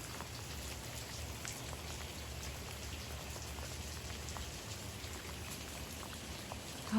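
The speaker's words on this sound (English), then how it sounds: "Oh, just enjoy the sound of that rain." Steady rain falling on a garden, a soft, even patter of drops hissing continuously at low volume with no voices.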